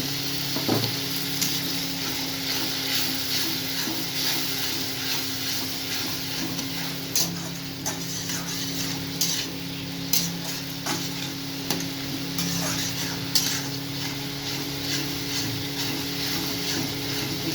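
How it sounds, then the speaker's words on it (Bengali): Potatoes and spices sizzle steadily in oil in a pan for a homemade rohu fish curry, a continuous close frying hiss with scattered ticks and light stirring scrapes throughout. "ভালো করে কষিয়ে নিতে হবে যাতে মশলার গন্ধ আদা পেঁয়াজ রসুনের গন্ধ সব চলে যায় তেল ছাড়া পর্যন্ত"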